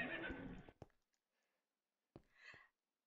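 A horse in a video game neighs in a loud, harsh burst, then a shorter, fainter whinny follows after a quiet pause.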